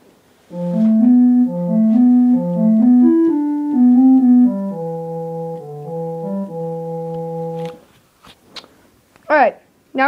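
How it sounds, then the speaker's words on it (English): The next phrase of the melody is played on piano as a bright, steady run of notes that ends with a held chord, followed by brief rustling and a short voice. "And together that will sound like this."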